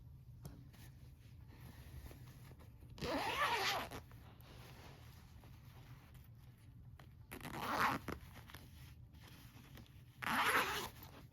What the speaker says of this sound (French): on va venir vérifier que la fermeture ouvre bien